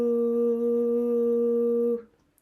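A breathing exercise in which a person sustains a steady humming VOO tone on the exhale, a single even note held for about two seconds before stopping abruptly, close and alone.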